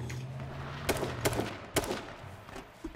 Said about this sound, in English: Oh, they're actually shooting at us.